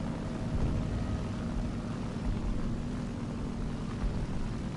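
Strike aircraft engine in War Thunder: a steady, loud propeller-plane drone with a rough low rumble, constant for several seconds with no talk.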